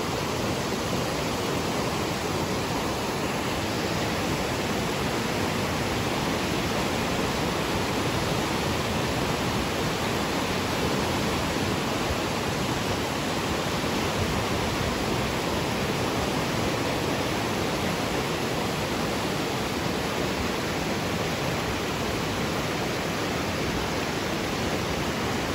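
A river stream at Milusok Spring rushes in a loud, constant broadband roar of flowing water that stays steady and close from start to finish, with no voices.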